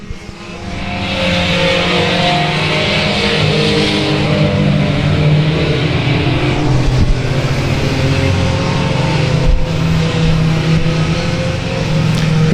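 Race cars rumble steadily around the South Texas Speedway oval to complete a lap, a loud, continuous blend of engine roar from several cars with no talk over it.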